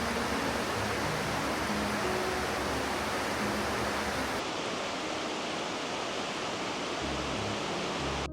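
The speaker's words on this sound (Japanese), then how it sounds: "部屋にある謎のスペースで川のせせらぎをぼーっと聞いて過ごす時間は本当に贅沢ですね" A river in a gorge below a ryokan window in the Kaga hot-spring area rushes steadily: broadband water noise, continuous and even, with no voices.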